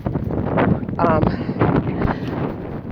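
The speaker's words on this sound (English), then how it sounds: "it's a very windy up here" Gusty wind buffets the microphone with low rumbling bursts while a person talks over it, outdoors on a running track.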